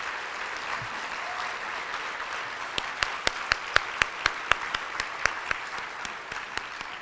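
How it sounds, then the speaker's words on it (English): Applause for volunteers at a charity breakfast, a soft steady patter of clapping in a large room, with a few loud, sharp nearby claps standing out in the middle stretch. "They're in the back lobby, so clap loudly."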